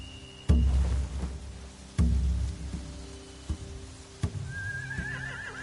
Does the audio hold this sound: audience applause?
no